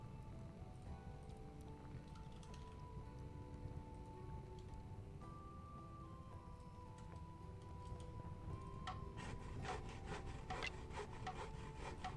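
Wood rasp crafting in the game Shroud of the Avatar, a faint scraping and rubbing of wood under soft background music, ticking strokes growing busier toward the end, no talk.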